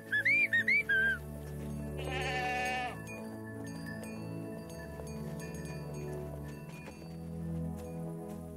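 Cartoon goats bleat in a quick series of high wavering calls, followed by a longer bleat, over a soft sustained musical score.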